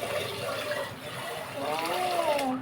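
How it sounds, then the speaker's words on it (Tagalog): Rice being washed in water in a home kitchen, with sloshing and pouring water sounds close by, while voices talk over it. "Hugasan ko tong bigas."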